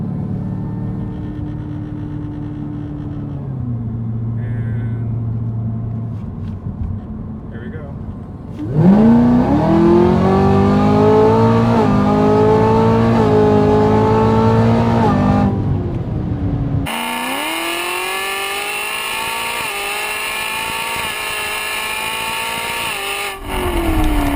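A Camaro ZL1 with a Stage 4 Whipple supercharger pulls away and accelerates hard, its engine rising in pitch through high-rpm revs with an audible supercharger whine, then shifts and climbs again, loud and close throughout.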